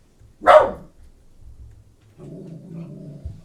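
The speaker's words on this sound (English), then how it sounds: "My dogs might go crazy" A dog gives one loud, close bark, followed by quieter low growling and rumbling in an otherwise quiet room.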